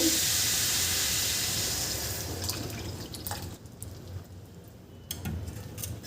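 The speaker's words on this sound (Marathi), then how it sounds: "आता यामध्ये आपल्याला दूध घालून घ्यायचं आहे इथे मी दूध घालून घेते" Milk pours into a hot pan of grated carrot halwa, starting with a loud steamy hiss that fades over a couple of seconds into softer bubbling, dripping and a few light clinks.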